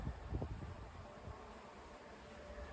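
A low, steady buzzing hum of many honeybees over a blooming canola field fills the air, with faint wind rumble underneath and no voices.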